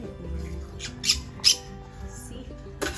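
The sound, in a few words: green-cheeked parrot squawking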